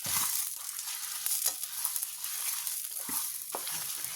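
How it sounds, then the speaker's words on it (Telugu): Mustard seeds, spices and curry leaves fry in hot oil in a pan for temple-style tamarind rice, a steady close crackling sizzle with a few sharper pops and stirring scrapes throughout. "ఈ కరివేపాకులో పచ్చిదనం అంతా పోయేదాకా బాగా ఫ్రై చేసుకుందాం అండి."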